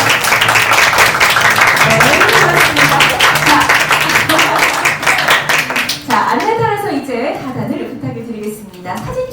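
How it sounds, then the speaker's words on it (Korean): An audience at the 25th Bucheon International Animation Festival press conference claps loudly and steadily for about six seconds, then the applause fades while someone speaks over it. "여러분 다시 한번 큰 박수 보내주시면 감사하겠습니다."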